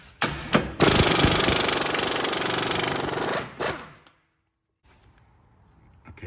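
An impact gun hammers loudly in a sustained burst of about three seconds, removing a 36 mm rear axle nut on a 2007–2011 Honda CR-V, preceded by short bursts and followed by quiet.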